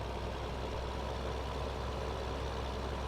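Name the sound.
tractor driving over silage, Farming Simulator 15 video game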